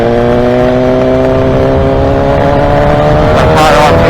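Motorcycle engine held at high revs on a ride: a loud, steady, droning hum with strong tonal harmonics, close and continuous, rising slightly near the end.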